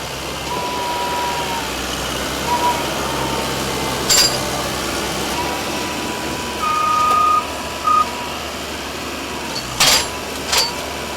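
Specialized railway tie replacement machinery works on track during a staged demonstration, a steady engine drone with intermittent electronic beeps and a few sharp metallic clanks scattered throughout.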